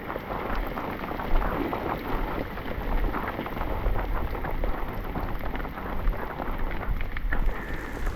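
Heavy rain pours steadily onto a motorcycle, a dense, continuous roar of drops hitting surfaces close by, with no letup.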